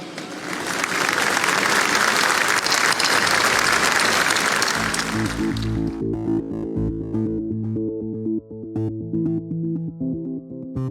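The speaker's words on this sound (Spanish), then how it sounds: "quiero que le demos un gran aplauso" A crowd applauds the president of El Salvador with dense, loud clapping for about five seconds, then it gives way to music with steady low tones and sharp percussive hits.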